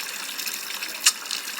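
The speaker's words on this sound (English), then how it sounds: "I have no idea what is wrong with that water heater. But now it is flooding everywhere." Water gushes from a broken water heater and floods the floor. It makes a steady, faint rushing hiss with one brief splashy surge partway through.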